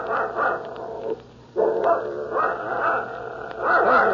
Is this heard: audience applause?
no